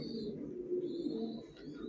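Racer pigeons coo softly in a loft, a low steady murmur of several birds with faint higher chirps above it, quiet and continuous without any voices.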